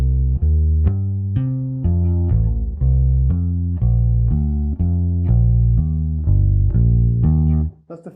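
A bass guitar plays a steady jazz walking line of distinct plucked notes on root, third and fifth, moving in a regular rhythm, up close and loud with no voices, ending abruptly.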